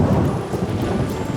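Outdoor thunder with rain starting, a deep rumbling roll under a dense hiss of falling rain, loud and continuous with no voices.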